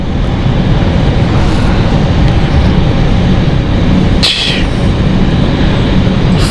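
An aircraft passes at London City Airport, a loud, sustained broadband roar that fills the whole clip with a brief dip near the end.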